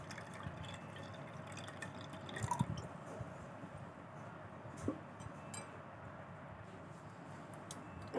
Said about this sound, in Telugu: నేను కుండలో నీళ్ళు తీసుకుంటున్నాను.